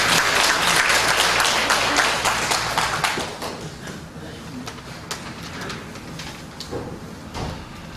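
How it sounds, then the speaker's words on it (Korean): A crowd at a church education event in Jinju applauds as a speaker is welcomed to the stage, loud dense clapping that thins out after a few seconds into scattered claps and room noise. "단상에 모실 때 큰 박수 부탁드리겠습니다"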